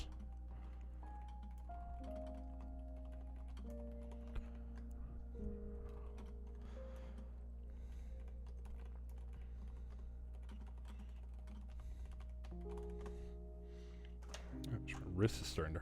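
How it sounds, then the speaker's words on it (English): Keys clatter in quick, irregular bursts on a computer keyboard while someone works on a Go command-line tool, soft and close over a sustained musical drone, with talking heard at times. "I'm typing too much."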